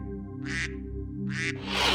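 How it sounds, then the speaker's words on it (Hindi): Two loud, nasal quacks from a nearby duck, separated by a short gap, over a steady low hum, with a noisy burst at the end. "तुम्हारे ये बतख चुप क्यों नहीं होते?"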